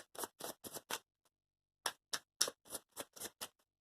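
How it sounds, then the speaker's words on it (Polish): Playing cards being shuffled by hand, crisp riffling bursts in two quick runs of four and eight separated by a short pause, close and clear with no talk. "Ja tutaj trochę potasuję karty."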